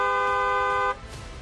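A car horn blares in one steady, loud blast lasting nearly a second before cutting off abruptly, leaving a quieter background murmur behind.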